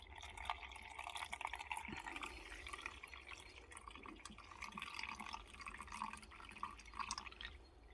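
Acid is poured off gold into filters lined with cotton wool, making a faint, steady trickle broken by occasional drips, with no talking.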